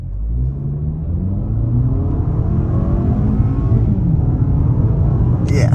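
A 2023 Toyota Camry LE in sport mode accelerating with a loud, steady engine drone that rises gradually, heard from inside the cabin with no talking.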